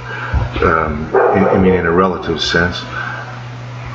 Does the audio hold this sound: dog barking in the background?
yes